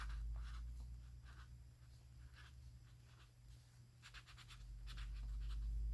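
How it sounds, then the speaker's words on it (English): A pen scratches across the page of a quilt journal in short close strokes and bursts, quiet over a low steady room hum. "I'm just going to write December here"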